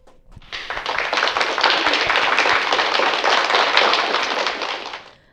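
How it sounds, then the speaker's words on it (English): An audience at a live entertainment show with an R&B singer-songwriter breaks into a warm round of applause, dense clapping rising quickly, holding steady for several seconds, then tapering off near the end. "give her a warm, special round of applause"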